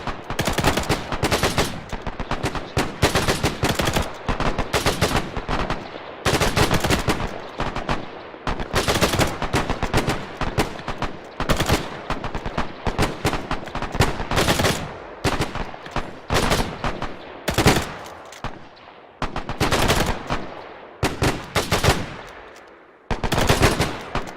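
Loud, sustained small-arms and machine-gun fire from a World War II platoon engagement in Arma 3, with dense overlapping bursts and rapid volleys pounding almost without pause, broken by only a few brief gaps.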